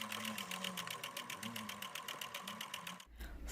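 A sewing machine topstitching the seam of a scrub cap runs in a fast, even mechanical rattle of needle strokes, close and steady, and then stops abruptly near the end.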